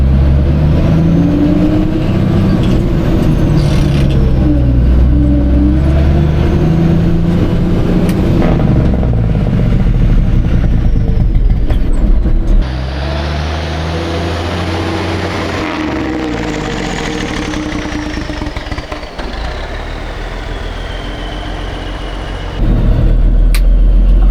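A 1971 Mack RL700L long-hood truck runs loud and close with a deep, steady diesel roar, then a rough clattering drone as the Jake brake engages and the engine revs wind down slowly, with a brief drop and return of the rumble.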